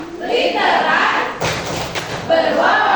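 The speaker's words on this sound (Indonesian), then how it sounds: "Kita tepuk yuk." Teachers and staff at SMP 5 clap together in a rhythmic group chant that recites the school's vision. The clapping is dense and steady, with voices chanting along throughout.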